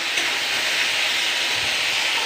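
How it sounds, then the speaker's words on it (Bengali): Potatoes fry in a pan with an even, steady hiss close by and no talking. "এখানে আলু ভাজা হচ্ছে"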